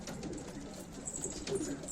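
Domestic pigeons in a Turkish breeder's loft cooing, low soft repeated coos close by, with a faint higher chirp or two above them.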